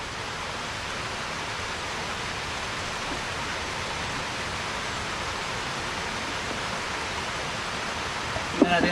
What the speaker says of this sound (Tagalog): Tingnan natin ang ulan guys ha.